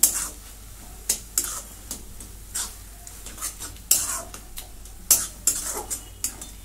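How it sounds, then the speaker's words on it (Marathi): Jaggery and sugar being stirred in a pan for carrot rava barfi, with a spoon repeatedly scraping and clinking against the metal in irregular close strokes, no voices. "आता गूळ आणि साखर विरघळून घेते"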